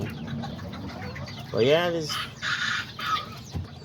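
A rooster lets out one loud crow among clucking hens and fowl, with someone briefly talking nearby.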